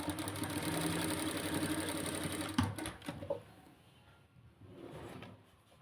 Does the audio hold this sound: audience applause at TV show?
no